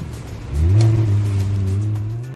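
A Lamborghini Huracan's engine revs up hard and then holds a loud, steady roar while the car drifts across snow and glassy ice on a frozen lake circuit.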